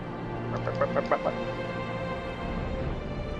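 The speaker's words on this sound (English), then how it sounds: "That was a bird." Bird clucking in Final Fantasy XIV: a quick run of five or six short, chicken-like clucks near the middle, moderately loud over a steady game background hum.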